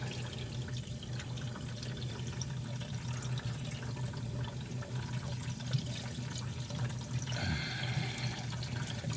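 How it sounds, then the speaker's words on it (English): Coolant drains from the engine of a 1961 Sunbeam Alpine II, a quiet steady trickle of liquid running throughout with faint workshop clatter near the end. "Which is all good because we're going to drain the coolant anyway."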